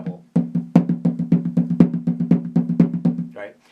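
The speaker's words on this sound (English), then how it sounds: "So an open diddle, open double, should sound like this." Taiko drum played with open double strokes, a rapid even stream of paired hits at steady tempo, close and resonant, ending with a short voice at the close.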